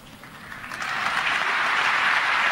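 Audience applause swells from a few scattered claps into steady, dense clapping from a crowd, loud and continuous for a couple of seconds.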